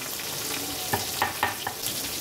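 Bhetki fish pieces, rubbed with turmeric, fry in hot oil in a pan: a steady loud sizzle with a few brief spatters and pops, close and continuous, no voices.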